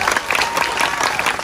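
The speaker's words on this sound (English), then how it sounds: "Please give these 2 young ladies a big round of applause." Audience at a sixth-grade school graduation award ceremony breaks into steady, loud clapping that fills the room evenly throughout, with no voices over it.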